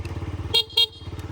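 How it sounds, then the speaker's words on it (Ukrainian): Two short beeps of a Yamaha Vox 4T injector scooter's horn sound close by over the steady putter of its idling engine. "Бібіка, як завжди, працює."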